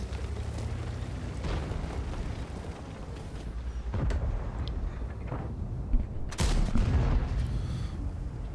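Tank guns fire in World of Tanks on the Fisherman's Bay map, with a few heavy booming shots standing out over a constant low engine rumble and battle noise.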